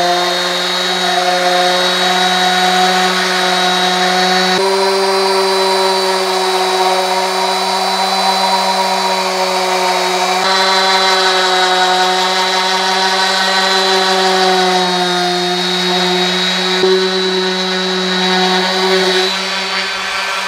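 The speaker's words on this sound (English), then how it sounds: "I've got 120 grit sandpaper on here, and I'm gonna hit all of these" A power sander with 120-grit sandpaper drones on a wooden dining table, a loud, steady motor whine running continuously without pause.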